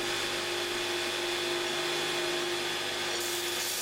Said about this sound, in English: I'm just going to tidy up the basic shape on this grinder